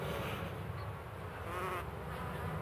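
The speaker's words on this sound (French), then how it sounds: "Naturellement, l'abeille noire de Ouessant est costaud." Ouessant black bees buzzing near their hives on a windy island, a continuous dense hum of many insects close by with no talk.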